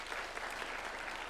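A crowd applauding senators and members of parliament at a party national delegates conference held at State House, with a dense, steady wash of clapping heard from a distance.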